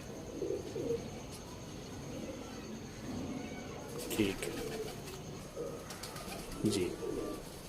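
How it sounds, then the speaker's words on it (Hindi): Soft coos from a female pigeon recur a few times under a steady background hum, with a brief spoken remark in between. "ये देख लें, ये कबूतरी है।"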